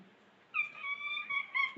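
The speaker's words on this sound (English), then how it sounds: "But the cats are here." A cat meows at night indoors, starting after a quiet moment with a long drawn-out cry, then a second shorter rising meow, close and clear against near silence.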